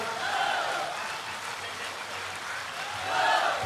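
Crowd applause at a mass political rally during a flower-offering ceremony for honoured guests, a steady wash of clapping from a large gathering that swells near the end, with faint talk underneath.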